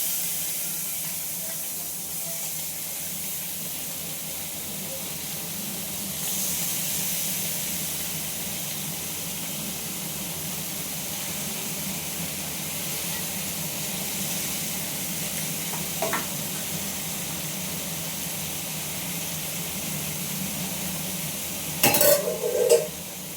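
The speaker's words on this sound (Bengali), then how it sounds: "এবার এই মাছগুলো আমি এক এক করে পাতিয়ে দেবো সুন্দর করে।" Small whole fish, mola-type, sizzling in hot oil in a wok, a steady soft hiss throughout with a brief clatter near the end; no talking.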